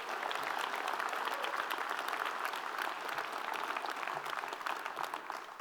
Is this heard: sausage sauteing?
no